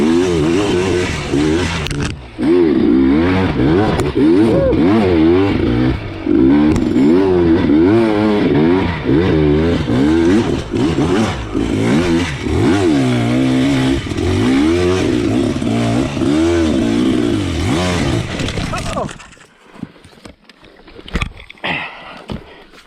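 A 2021 Beta 300 RR dirt bike pulls away hard off the line. Its engine note climbs and revs loudly up and down for nearly twenty seconds, then cuts out, leaving quieter scattered rattles.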